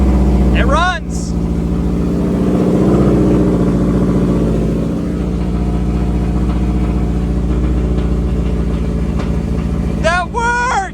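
A Subaru Forester with a swapped, forged STI engine idles steadily and loudly up close after starting, with short bursts of people talking near the beginning and end.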